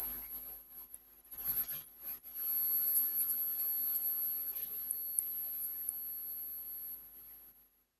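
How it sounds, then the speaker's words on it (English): A steady high-pitched electronic tone sounds continuously with a few faint flickers, no voices, holding for several seconds before fading out. "There's a beeping coming."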